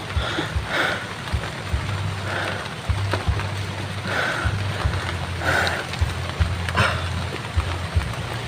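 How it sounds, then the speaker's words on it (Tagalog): Heavy rain pours steadily outdoors in a wooded area, a dense continuous wash of noise with a low rumble underneath and a few louder spikes, no talking. "Lumakas pa yung ulan."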